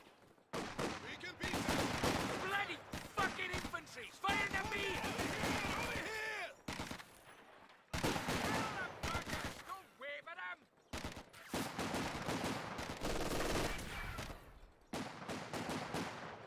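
Dense gunfire from the Company of Heroes 2 strategy game, bursts of rifle and machine-gun shots with loud sustained volleys and short gaps, as German Grenadier infantry engage in battle.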